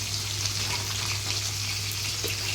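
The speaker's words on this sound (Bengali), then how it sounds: "আর এখানে তো মাছের মাথাটাও ভাজা চলছে।" Fish pieces, including a fish head, sizzle steadily in a pan of hot oil, a continuous close crackling hiss over a low steady hum, with no talking.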